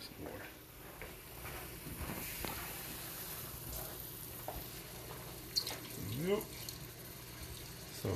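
Water runs from a kitchen tap while jambalaya Alfredo is being cooked. It is a faint, steady splash and trickle that lasts several seconds, with soft clinks and pan noises from cooking under it.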